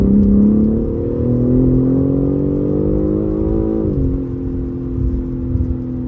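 A 2021 BMW M3 Competition (G80) drops a gear and accelerates hard, its engine note rising steadily in a loud, close drone before a brief dip at the shift and a renewed pull.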